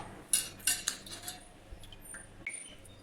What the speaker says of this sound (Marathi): आता या सगळ्यात आधी आपण हे बटाटे कापून घेऊ.